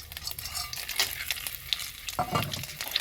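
Whole cumin, cinnamon, cardamom, bay leaves, cloves and black peppercorns fry in hot oil in a pot for khichuri. A soft, continuous sizzle is broken by scraping stirs and crackles, fairly quiet and close, with no voices.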